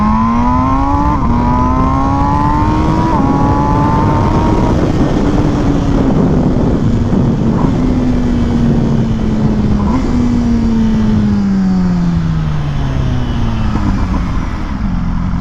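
An MV Agusta Brutale motorcycle accelerates hard, its engine note rising repeatedly through several quick gear changes before easing off, loud and steady throughout with no talking.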